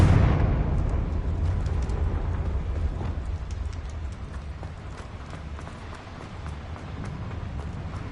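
Magical Confringo fire spell blasts in the video game Hogwarts Legacy: a loud, sharp burst at the start fading into a sustained rumbling roar with scattered crackling debris, no voices.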